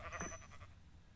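A sheep in the Minecraft video game gives a short, faint bleat, then falls quiet.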